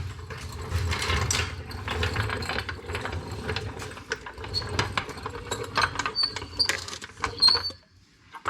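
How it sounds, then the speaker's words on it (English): Old noisy floor jack being pumped and positioned under a Honda Civic Del Sol, giving a rapid metallic ratcheting and clanking with scrapes that continue for several seconds and then briefly stop. "there's really no quiet way to get an old noisy floor jack"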